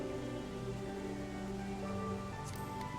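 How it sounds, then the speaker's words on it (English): Rain in the game Final Fantasy XIV, a steady even wash of falling rain layered under ambient game music, with a few brighter chiming tones near the end. "Why did it have to be raining now?"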